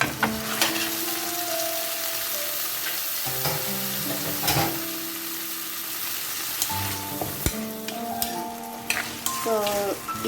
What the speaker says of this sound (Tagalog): So, i-ano natin to, i-fry muna natin siya bago ko lutuin.